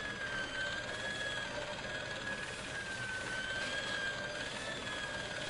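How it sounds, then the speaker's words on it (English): An industrial polishing machine in the Broken Sword video game drones on in a steady, unbroken mechanical whine with a sustained high tonal hum, loud and continuous with no pauses. "I saw the source of the hellish noise which echoed through the corridors. It was an industrial polishing machine"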